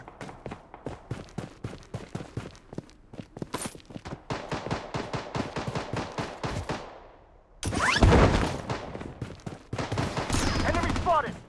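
Rapid automatic gunfire in the video game Blood Strike, with long loud bursts of closely spaced shots, a short pause, then heavier explosive firing and more sustained shooting, and game voice callouts mixed in.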